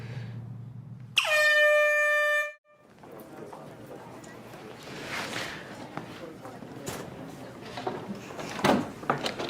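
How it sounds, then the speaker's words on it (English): A blaring air horn sounds once for about a second and a half, loud and sustained, then cuts off; footsteps and a door or drawer follow, and people talk afterward. "Like the air horn."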